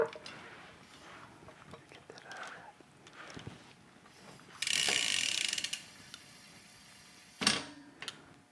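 A gravel bike's rear wheel, just fitted with a new rear brake mount in a workshop, spins freely with a ratcheting freehub buzz that rises into a louder burst of clicking, while a voice speaks faintly nearby.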